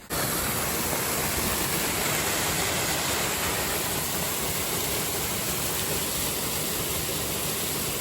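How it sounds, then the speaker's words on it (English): A mountain waterfall on the Big Beehive hike near Banff and Canmore pours in a constant, loud broadband rush that fills the whole stretch without pause. "There's a waterfall."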